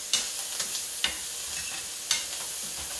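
Garlic and onion frying in a pan give a steady, close sizzle with a few sharp clicks of stirring scattered through, and no talk.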